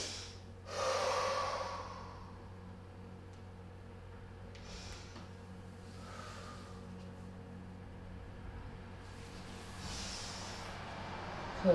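Audible breathing during a yoga recovery stretch, with a strong inhale near the start followed by several softer breaths and sighs at close range over a faint steady background hum.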